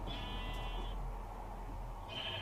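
Two bleats from a Minecraft sheep, one early and one near the end, heard over a steady hum of game background noise without talk.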